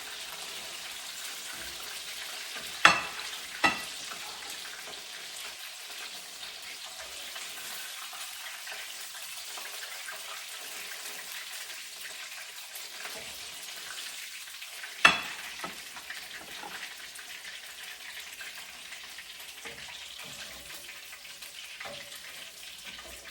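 Pork tenderloin sears in a hot pan with a constant soft sizzle and crackle of frying, punctuated by a few sharp clanks of a utensil against the pan.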